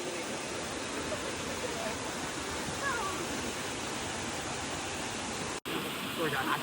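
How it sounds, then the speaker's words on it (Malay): Seven Princesses (Tujuh Puteri) waterfall on a hiking trail at Bukit Seri Permata, a steady, loud broadband roar of falling water that fills the whole clip, briefly cut near the end. "Finally sampai air terjun Tujuh Puteri."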